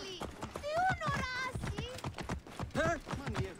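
Horse hooves in the video game Assassin's Creed Origins, a rhythmic clip-clop of steps running beneath steady, close talk from a player that covers much of it.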